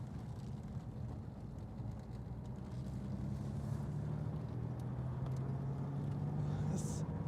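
A 1988 Porsche 911 Turbo drives slowly in second gear on a tight residential turn, its engine a steady low drone with some wind rush heard from inside the car.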